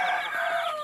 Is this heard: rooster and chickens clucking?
yes